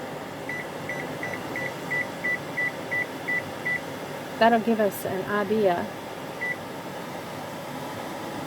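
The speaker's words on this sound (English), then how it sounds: "We're going to set our timer for 10 minutes." A kitchen timer beeps in a quick regular series of short tones as it is set for simmering cranberry sauce, fairly faint under steady kitchen background noise, with a person speaking midway.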